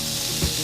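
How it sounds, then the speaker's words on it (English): Steak sizzles on a grill in a brief, loud, continuous hiss of frying fat with a faint soft thump partway through; no voices. "Oh, look at that sizzle."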